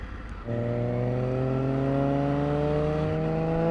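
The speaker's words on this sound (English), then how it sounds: "Noisy car going nowhere." A car engine starts up and drones loudly and steadily, revving with a rising whine that holds for several seconds, close and continuous.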